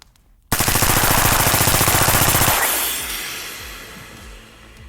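Sustained full-auto burst fired through an extremely long 25-yard suppressor, a dense rapid rattle of closely spaced shots lasting about two seconds, then a long hissing, rumbling tail that fades gradually.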